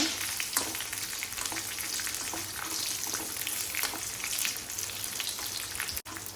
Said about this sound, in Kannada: ಫಸ್ಟಿಗೆ ನಮ್ಮ ನೀರುಳ್ಳಿ ಪಾಂಡ ಒಂದು ಪೂರ ಕಾಯಿಜಿ ಅದಕ್ಕೋಸ್ಕರ ಉನ್ನೇನು ಪೂರ ಫಸ್ಟಿಗೆ ಫ್ರೈ ಮಾಡ್ಕೊಂಡು